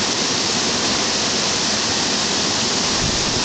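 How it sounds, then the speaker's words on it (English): River rapids near Kyburz rush along in a dense, unbroken roar of white water, loud and close throughout with no voices. "rapids. Calmer spot compared to some of the others."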